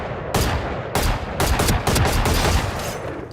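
Gunfire in the Valorant video game sounds as several loud, close shots in quick succession, each a sharp burst overlapping the next.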